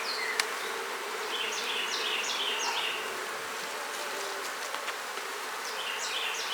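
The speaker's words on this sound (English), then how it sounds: "Look at that, a wasp on my arm." Wasps and bees buzz steadily close by at an open beehive in bad weather, with a continuous insect drone and a few brief clicks and no voices.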